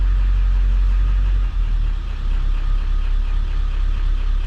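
A Ford 7.3 PowerStroke diesel engine idles steadily on a quiet whisper tune, with a deep, even low rumble that stays loud and close for the whole stretch and shifts slightly about a third of the way in.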